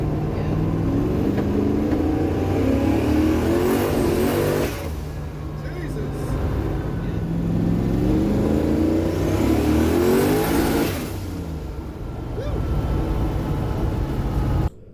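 A boosted race car running on corn fuel revs hard in two long rising pulls, loud and close with a whining turbo edge, settling between bursts; a voice speaks over it.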